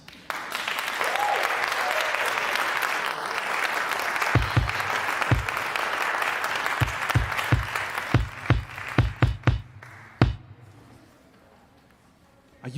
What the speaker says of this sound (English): Please give a hand clap for the Hexagons.